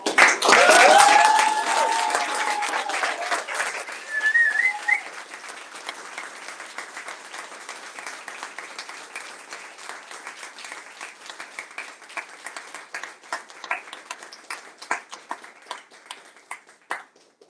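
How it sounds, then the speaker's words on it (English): An audience applauds at the end of a live concert, starting with a loud burst of clapping and a few cheers that thin into scattered, fading claps. "And please, a warm round of applause."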